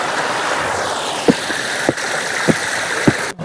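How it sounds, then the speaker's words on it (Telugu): Water spilling down from a rock on a hillside, a continuous close rushing splash with several soft thuds at regular intervals and a sharp knock at the end. "చూసారా వాటర్ ఎంత చక్కగా పడుతుందో రాయి నుంచి"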